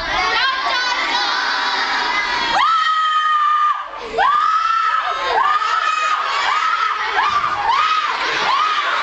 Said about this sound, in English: They screamed.